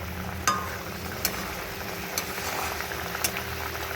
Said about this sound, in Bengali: একটুখানি খুন্তিটা দিয়ে একটু নেড়ে দিলাম